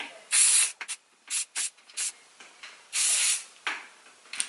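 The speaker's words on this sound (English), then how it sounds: "So I'm just gonna hold my hair up a little and spray this into the" Hairspray hisses onto curls in several short bursts of varied length, close and crisp, separated by brief quiet gaps.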